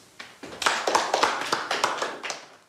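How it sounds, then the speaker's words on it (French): A small group of students claps in a classroom at a traditional boarding school, about a dozen sharp, close hand claps in a loose, uneven rhythm, fairly loud and with no talking. "On l'applaudit."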